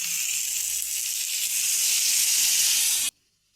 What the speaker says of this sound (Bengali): এবার আমার বেগুন ভাজা হয়ে গেছে, আমি উপর থেকে জল দিয়ে দেবো।